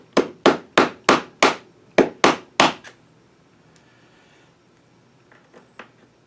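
A masonry nail is hammered into a hole in a school desk with eight sharp, evenly spaced strikes over about three seconds. Near the end a few faint taps and small knocks follow, with no talking.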